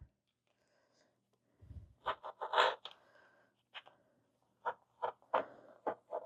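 Scissors snip fabric while cutting out the corners of a fuzzy ghost-shaped pillow for sewing: a series of short, close, sharp cuts in irregular clusters over near silence.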